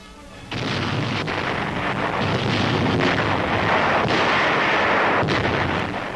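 A dense, continuous roar of heavy aerial bombs from RAF Lancasters exploding on Pforzheim in World War II, with sharp booming bursts breaking through a rumbling wall of sound.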